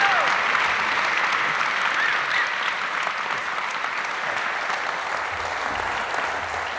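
Sustained audience applause fills a hall at the 2022 David Parkin Oration, a dense, steady wash of many hands clapping that holds an even level throughout with no voices rising above it.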